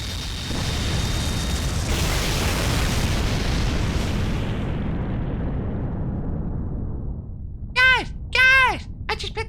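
A huge explosion in the mobile game Fate/Grand Order rumbles as a long, roaring blast of noise that slowly fades and dies away, followed by a couple of short sharp cries near the end.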